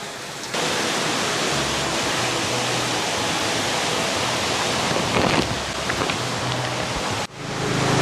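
Water running through a channel and spilling onto a large waterwheel on the Isle of Man, a loud continuous broadband rush like a waterfall that holds steady for several seconds before a brief change near the end.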